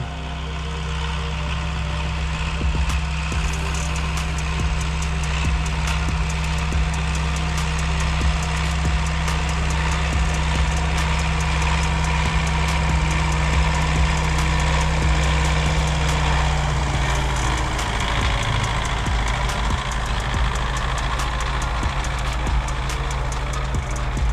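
A tractor engine idles steadily and loudly nearby, a constant low rumble with a deep hum that shifts slightly in pitch toward the end.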